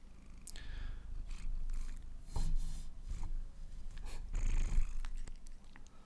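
A pet cat purrs steadily at close range, its low rumble rising and falling in soft bursts with some light rustling around it.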